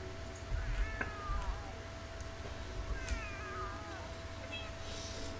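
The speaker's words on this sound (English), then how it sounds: "All you hear is cat meows now." A cat meows repeatedly, several drawn-out, rising and falling cries spaced a second or two apart, fairly close, over a steady low hum and faint background noise.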